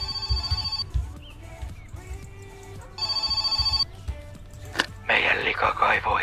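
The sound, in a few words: phone ringing in video game My Summer Car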